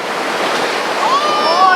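Ocean waves wash up on a skimboarding beach, a continuous loud rushing surf with wind noise on the microphone and a brief thin whistle-like tone near the end.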